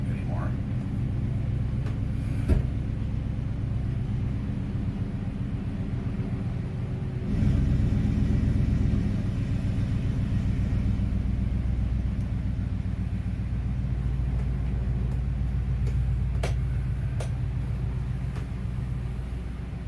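A truck engine runs with a low, steady rumble that continues throughout, with a heavier surge partway through, while people talk over it.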